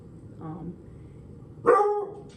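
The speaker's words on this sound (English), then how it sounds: "Dogs." Dogs barking outdoors while people wait outside a grooming shop: a soft bark near the start, then a louder burst of barks near the end, over low background noise.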